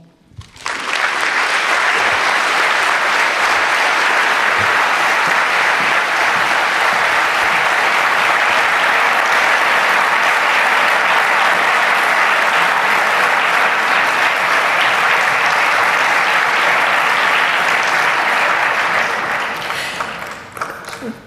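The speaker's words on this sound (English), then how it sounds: "As you can hear that applause, you can see how much your words were appreciated." Large audience at a UNESCO conference opening breaks into loud, sustained applause that swells quickly, holds as a thick unbroken roar of clapping for about twenty seconds, then tapers off at the end.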